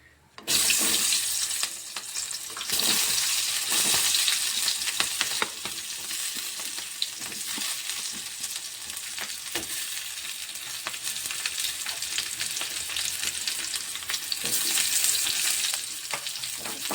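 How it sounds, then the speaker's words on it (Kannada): Chopped onions, two medium ones, frying in hot oil for a pea kurma, giving a loud, steady broadband sizzle that flares as they hit the pan and continues with occasional stirring scrapes, no talking. "ಇವಾಗ ಇದಕ್ಕೆ ನಾನು ಈರುಳ್ಳಿ ಹಾಕೋತೀನಿ ನೋಡಿರಿ"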